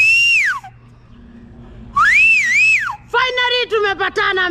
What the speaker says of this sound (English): She stood in public places and whistled loudly